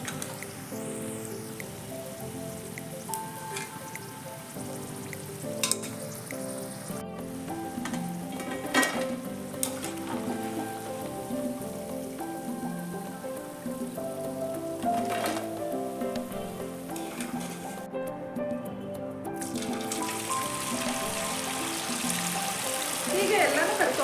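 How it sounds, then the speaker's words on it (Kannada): Batter-coated cauliflower pieces for restaurant-style gobi manchurian deep fry in hot oil, a long, steady bubbling sizzle with occasional clinks and rustles of pieces being lifted out. "ಈ ರೀತಿ ಆಗೋ ತನಕ ಫ್ರೈ ಮಾಡ್ಕೋಬೇಕು."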